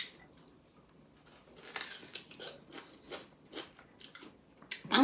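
Crunchy biting and chewing of sour food at a close distance, with wet crackling chews repeating irregularly and growing louder toward the end.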